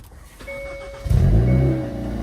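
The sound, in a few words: car exhaust with valve open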